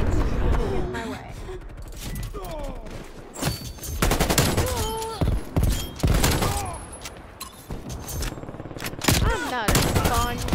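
Video game gunfire in a Krig-style shooter: rapid bursts of automatic fire and single shots crack loudly in close succession, mixed with in-game sound effects and a player talking over the action.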